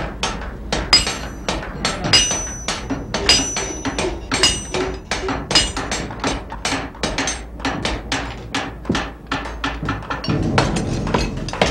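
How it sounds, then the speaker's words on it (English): Metal hammer strikes ring out during the forging of a musket barrel in a historical armory re-enactment. They fall in a steady, sharp, evenly spaced rhythm of loud, close blows that continue throughout. "Forging the barrel, shaping the lock."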